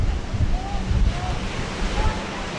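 Surf washes onto a beach where an off-road camper van is parked, a continuous close roar of breaking waves mixed with wind buffeting the microphone.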